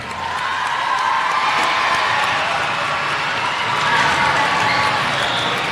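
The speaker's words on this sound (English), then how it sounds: "Let's give a loud round of applause for our jazz band." Sustained crowd applause with cheering for a school jazz band, a dense wash of clapping and shouts holding steady throughout, fairly loud and close.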